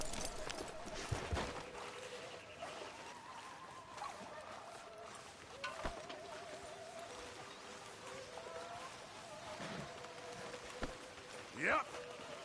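Horse hooves clip-clopping in the Red Dead Redemption 2 video game, faint scattered steps under game ambience with some background sounds and brief voices.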